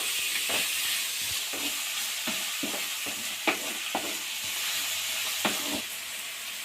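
Onions frying in a pan for egg kheema, a continuous soft sizzle broken by repeated sharp scrapes and taps of a spoon stirring, evenly paced across the whole stretch.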